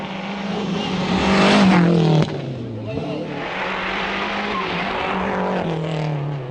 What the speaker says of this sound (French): la Renault 11 Turbo sillonne les routes des rallyes